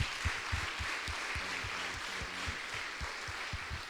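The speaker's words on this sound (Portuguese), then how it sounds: "Bata as palmas para o Senhor bem forte" Church congregation clapping hands in a steady rhythmic beat, moderately loud and spread out in a large room.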